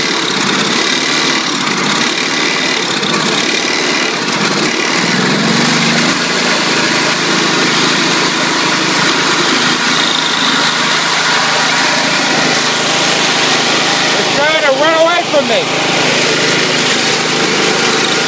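A John Deere 318 garden tractor engine runs steadily after a cold start without choke, a loud continuous near drone with slight rough variation throughout, no talk.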